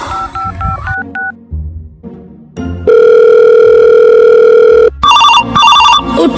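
A telephone sounds a quick run of dialing-style beeps, falls briefly quiet, then gives one long, loud, steady ring tone and a final burst of bright repeated ringing chirps.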